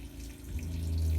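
Water from an RV shower streams steadily into a small off-grid washing machine, a close, continuous pouring rush that grows slightly fuller as the tub fills.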